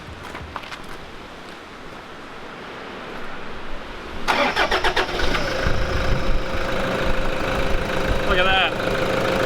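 A diesel engine with a newly installed catch can and fuel pre-filter cranks and fires after several quiet seconds, then settles into a rough, loud clattering idle, with a person speaking briefly.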